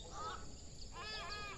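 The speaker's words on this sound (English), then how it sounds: "And we got our friend the birds. They keep gracing us with their sound." Birds call in a village home garden: a few cawing, crow-like calls come in short bursts, the first faint and the later ones louder and harsher, over a soft outdoor background with no talk.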